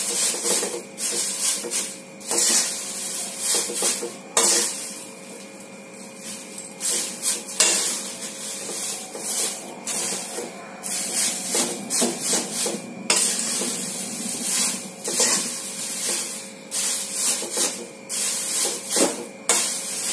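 Curry leaves stirred and lightly fried in a pan while making curry leaf powder, a steady scraping and rustling with soft frying sizzle and repeated stirring strokes, close and alone.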